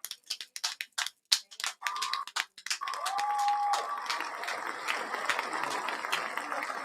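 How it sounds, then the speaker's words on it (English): An audience at a party show claps in scattered bursts at first, then swells into sustained applause and cheering, with a brief whistle-like tone rising above the crowd noise. "You got to give us an applaud for that one more time."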